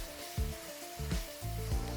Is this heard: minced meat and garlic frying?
yes